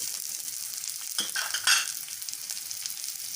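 Sprouted green gram and fenugreek frying with onion in a pan, a soft continuous hiss with a couple of brief louder crackles as the mixture is stirred, with no speech.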